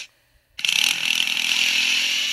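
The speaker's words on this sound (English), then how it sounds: "Let's try the drill. Let's see what the drill does." A drill in the prison-escape video game Escape The Prison starts abruptly after a brief silence and keeps up a loud, steady, harsh whine.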